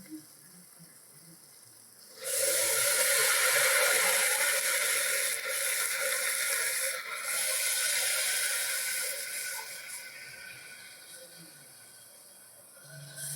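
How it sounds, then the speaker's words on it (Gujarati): Hot water, about 3 cups, pours steadily into a pan after a quiet start, a loud continuous splashing rush that gradually eases off toward the end. "મેં 3 કપ જેટલું પાણી એમાં એડ કર્યું છે."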